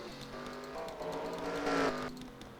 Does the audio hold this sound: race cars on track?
yes